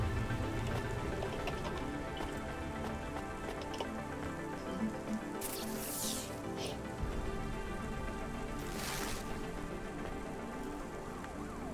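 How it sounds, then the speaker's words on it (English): Steady rain in the Cloudpunk video game, a continuous dense patter under a busy city hum, with two brief louder hissing bursts partway through. "And of course it's raining."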